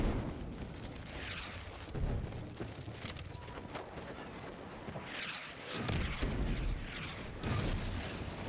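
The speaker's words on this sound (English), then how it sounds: "artillery's hitting this building" Artillery shells strike a building in a Battlefield battle royale match, with several heavy booming impacts spaced a few seconds apart over a low rumble.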